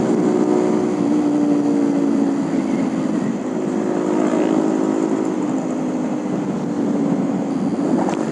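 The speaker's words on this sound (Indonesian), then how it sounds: "Anginnya kenceng banget" Steady broadband rush of strong wind buffeting a moving motorcycle, loud and continuous throughout, with engine drone blended underneath and no talk.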